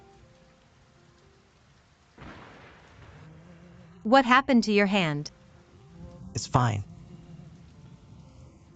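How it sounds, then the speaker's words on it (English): Heavy rain downpour with thunder, a steady wash of rain under brief spoken exchanges, with louder bursts partway through. "in such a downpour"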